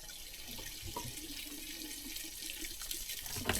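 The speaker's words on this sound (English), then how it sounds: "You can hear all the water." Water rushes and trickles through household plumbing in a renovated house with a well pump, a steady close hiss of flow with faint dripping and splashing underneath, no voices.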